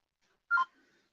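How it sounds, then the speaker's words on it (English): A phone gives a single short, quiet text message alert, a brief two-note electronic chirp that stands alone in near silence. "I hear my phone going off."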